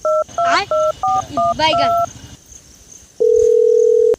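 Touch-tone telephone dialing: a quick series of about seven clear DTMF beeps, each distinct, followed after a pause by a steady ringback or dial tone. A voice speaks briefly over the tones.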